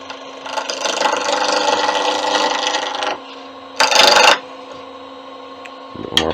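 A wooden pen blank spins on a lathe at 1500 rpm while a tool rasps against it in a steady scrape for a few seconds, then stops. A brief louder scrape follows under the hum of the motor.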